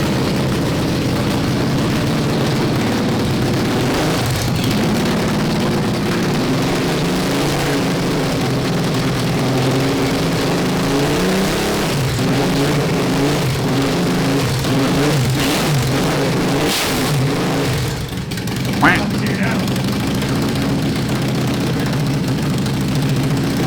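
A custom-built supercharged car engine runs loud and steady for over twenty seconds, a dense rumbling drone with rising and falling revs and a brief sharp spike near the end.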